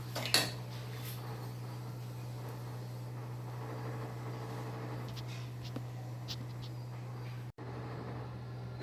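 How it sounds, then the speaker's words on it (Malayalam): Semolina (rava) being dry-roasted and stirred in a pan, with soft, continuous scraping and occasional clinks of a utensil against the pan over a steady low hum, moderately close and fairly quiet, with no speech. "ഒന്നുകൂടെ ഒന്ന് വറുത്തെടുക്കുക"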